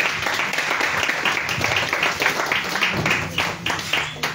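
A congregation applauding at a prayer vigil, with a dense, steady burst of clapping from many hands, fairly loud and close, with a voice faintly underneath.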